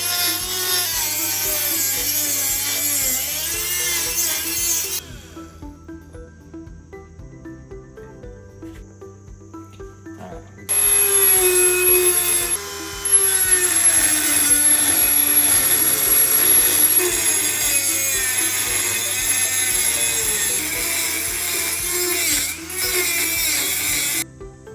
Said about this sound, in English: So first we need to cut this pipe down to size.